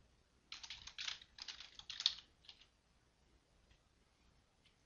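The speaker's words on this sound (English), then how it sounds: "you can type in whatever you need." Quick bursts of computer keyboard typing, light key clicks in a short run, quiet and alone, then silence.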